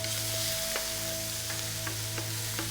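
Ginger and garlic paste sizzle loudly in a hot pan, a steady close frying hiss with a few soft stirring taps, no voices.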